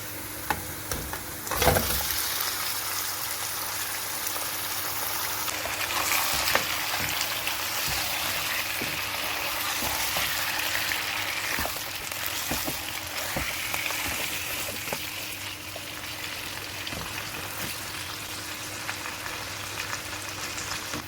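Mutton pieces frying in a pan over browned onions, a steady crackling sizzle with occasional stirring scrapes, close and continuous throughout.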